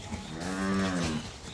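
A bull calf at a dairy farm in Dinajpur gives one long, deep, resonant moo. It swells and fades within about a second, close by and clear above a quiet barn background.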